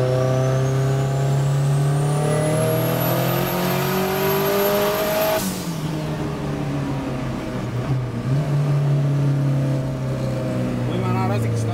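An Opel Manta Turbo 1.8 with 320 wheel horsepower screams up through a long gear in a loud rising engine howl, shifts with a sudden drop, then climbs hard again up close.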